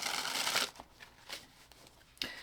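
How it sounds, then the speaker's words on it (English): A deck of tarot cards is handled and cut, giving a soft riffling swish followed by a few faint papery snaps and slides, quiet and close, with no speech. "I just cut the deck on the Ace of Swords."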